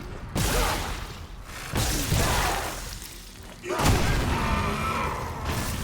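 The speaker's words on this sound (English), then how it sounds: "Why did an explosion just happen?" Loud explosive slams and booms inside the Dead Space Remake game, with three heavy thuds spaced a couple of seconds apart, each followed by a rushing, crackling tail, and faint talk mixed underneath.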